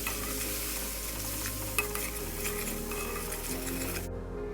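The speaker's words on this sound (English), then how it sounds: "Add 1/2 teaspoon of turmeric powder and fry it for a couple of seconds." Half a teaspoon of turmeric powder fries in oil for Darjeeling-style aloo dum, an even hissing sizzle with a faint metallic tap, cutting off abruptly near the end.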